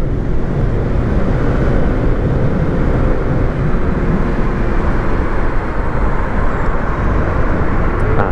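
A Yamaha NMax scooter held at full throttle around 105 km/h gives a loud, steady engine drone blended with heavy wind roar that continues unbroken throughout.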